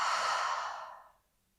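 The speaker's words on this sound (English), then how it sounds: "One more time, deep, deep inhale. Open mouth, exhale." One deep, open-mouthed exhale during morning vinyasa yoga, close and breathy, fading smoothly into quiet over about a second.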